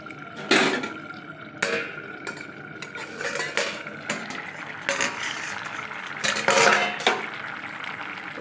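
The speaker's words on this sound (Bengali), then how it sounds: "এবার মাছের ঢাকাটা খুলে দেখবো" Metal lid lifted off a pot of rohu fish curry with green peas, with several sharp clanks and scrapes of metal on metal against a faint simmering background, close and fairly loud.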